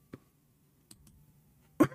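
A man coughs once in a short, sharp burst near the end. Before it come a few faint clicks and a light background hum.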